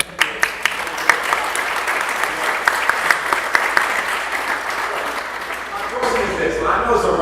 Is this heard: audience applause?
yes